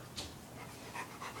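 A dog panting softly nearby, a few quick breaths with faint whimper-like sounds over a low background, with no talking.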